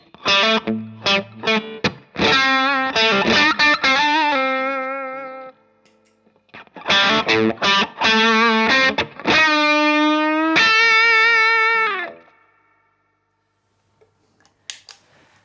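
Heavily overdriven electric guitar playing two bursts of quick single-note lines with long, buzzing sustain, separated by a short pause.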